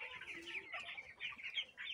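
Chicks on a poultry farm housing about 1,500 birds keep up a quiet, busy chorus of high chirps and peeps, overlapping one another at a steady rate with no voices.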